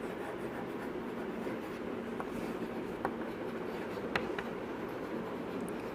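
A pen or marker writing out a physics definition, a steady soft scratching rub that runs continuously with a few faint taps, close and quiet with no talking.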